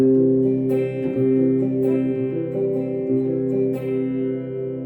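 A guitar chord is strummed and left ringing, then struck again a few times, sustained tones sounding clearly with no talking.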